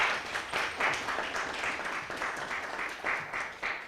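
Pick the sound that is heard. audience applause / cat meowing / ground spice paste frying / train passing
audience applause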